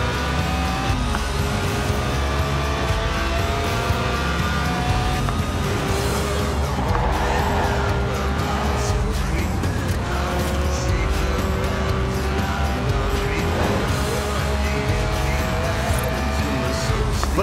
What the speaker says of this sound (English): the Lotus Elise, a 90s classic based on the age-old Roadster recipe